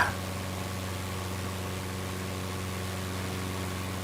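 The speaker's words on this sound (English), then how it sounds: "There's a plane behind me. I can hear it." A 1909 plane's engine idles in a flight video game, giving a steady, continuous mechanical drone with a constant hum throughout, moderately loud and alone.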